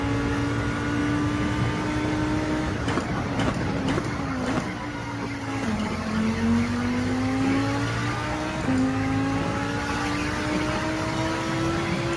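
A car engine in the Gran Turismo 7 racing game drones loud and steady, its pitch sliding up and down as the revs shift, with a few sharp clicks early on and no one talking.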